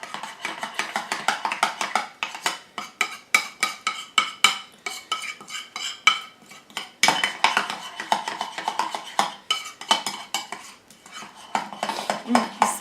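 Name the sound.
mixing homemade deodorant ingredients together in bowl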